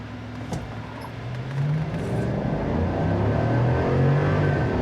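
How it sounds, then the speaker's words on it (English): A 2024 Chevrolet Silverado ZR2 Bison pickup engine idles, then its pitch climbs as it revs up under brake torque and holds a strained, rising roar, close and loud, with no talking. "This truck definitely doesn't like it when you brake torque it."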